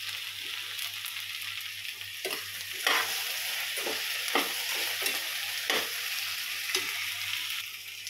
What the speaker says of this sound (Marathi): 5 मिनिटं तुम्हाला भेंडे असेच शिजवून घ्यायचे आहेत.